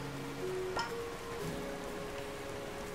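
Steady rainfall in the video game A Hat in Time, a soft even hiss of drops with faint tonal game sounds layered over it and no voices.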